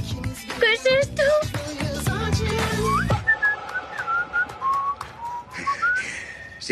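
A person whistles a bright, wavering tune in short melodic phrases, close by, first over music and then more softly on its own.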